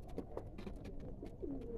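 Pigeons sitting up high in a loft give soft, repeated cooing calls, with one longer rolling coo near the end, close by over a steady low background hum.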